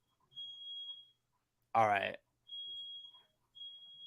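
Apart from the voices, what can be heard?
fire alarm going off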